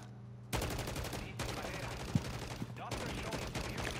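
Rapid automatic gunfire rattles in Call of Duty zombies mode, dense bursts of shots in quick succession with brief gaps between them, heard close and loud over a low game hum.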